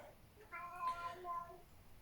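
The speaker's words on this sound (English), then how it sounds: "There goes my cat." A house cat meows once, a drawn-out tonal cry lasting about a second against a quiet indoor background.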